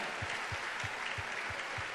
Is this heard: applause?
yes